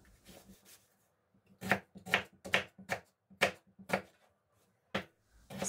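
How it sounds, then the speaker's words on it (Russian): A knife finely chops an onion on a cutting board, a string of crisp, close taps with short pauses between bursts, no talking. "Луковицу мелко нарезаем."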